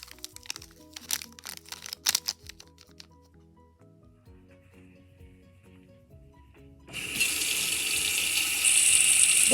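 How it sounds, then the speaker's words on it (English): Crinkling and cracking of dry instant ramen noodles and packaging in a pot, then a pause before water starts pouring steadily over the uncooked noodles, growing louder toward the end. "Then put water over the uncooked noodles."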